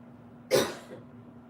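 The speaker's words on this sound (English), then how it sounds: "Sorry about the coughs." A single sharp cough, close and fairly loud, standing alone against quiet room noise.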